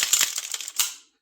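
Slide of a Fusion Firearms XP Pro pistol racked by hand at a range, a quick series of close, sharp metallic clicks and scrapes ending in one firmer clack before silence.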